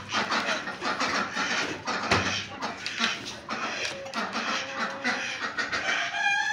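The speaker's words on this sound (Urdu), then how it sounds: "یہ مرغا، یہ آسٹریلیا کی مرغیاں." A rooster and Australian hens cluck in a room kept with fancy hens and ducks, with dense, overlapping clucks and calls close by while someone talks over them.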